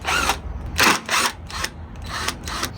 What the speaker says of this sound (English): So we'll remove the two 10mm bolts from the top first.